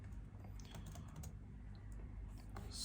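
Faint, soft tapping of keys on a computer keyboard, scattered light clicks over a low background hum.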